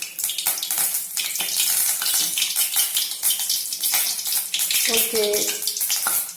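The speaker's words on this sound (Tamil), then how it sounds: "இந்த ரெடி பண்ணி வச்சிருக்க இந்த காலிஃப்ளவரை உள்ள போட்டு பொரிச்சு எடுத்துக்குவோம்" Cauliflower pakoda pieces frying in hot oil on a medium flame, a steady dense hiss and crackle of bubbling oil running throughout, close and loud, with a brief spoken word over it.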